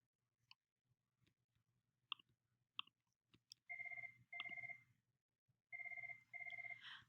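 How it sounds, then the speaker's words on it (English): A desk telephone rings in a quiet room with two double-burst electronic rings, preceded by soft scattered clicks and rustling. "I've never heard that phone ring before"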